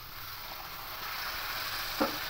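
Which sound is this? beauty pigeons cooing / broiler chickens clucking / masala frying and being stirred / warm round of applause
masala frying and being stirred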